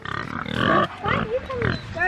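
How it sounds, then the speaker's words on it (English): A pig grunting on a small homestead farm, a run of loud, close, throaty grunts and squeals in uneven bursts with no other voices. "you sound like a pig"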